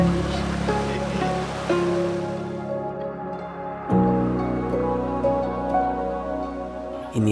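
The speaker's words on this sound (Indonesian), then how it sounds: "Inilah air terjun yang berada di Kampung Malumkarta" Water from a waterfall at Kampung Malaumkarta rushes in a steady wash, with faint voices and tonal sounds layered over it.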